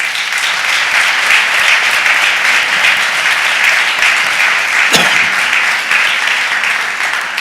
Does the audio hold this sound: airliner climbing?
no